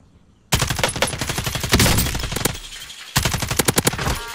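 Rapid bursts of automatic gunfire from the shooter game Warzone, loud and close, in two volleys separated by a brief pause, with dense staccato shots crackling over a busy background.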